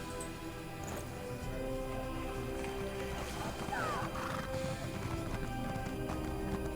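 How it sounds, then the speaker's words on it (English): Horse in The Elder Scrolls Online neighing once and galloping, with steady clip-clop hoofbeats running throughout and a whinny rising midway, at moderate level. "I'm gonna sprint my horse to the Kapora Tower portal."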